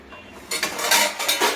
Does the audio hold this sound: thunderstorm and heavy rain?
no